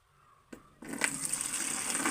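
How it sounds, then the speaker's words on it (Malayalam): Plain water is poured into a china clay mixture used for rubber tapping; after a quiet start and a brief knock, a steady gushing pour begins and continues to the end. "ഇനി നമ്മൾ കുറച്ച് പച്ചവെള്ളം ഒഴിക്കുകയാണ്"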